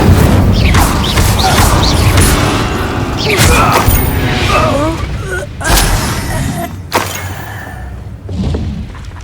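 Spell combat in Hogwarts Legacy, with loud thuds, whooshing bursts and crashing impacts as an Incendio fire spell is cast, fast and close, layered over busy battle effects.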